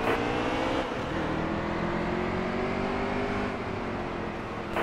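Race cars at the Food City 500 roar past, a loud continuous engine drone with shifting pitch as cars go by, and no talk.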